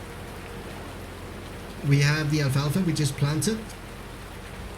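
Steady rain hissing in Farming Simulator 19, a constant even wash of rainfall throughout, with someone talking over it partway through.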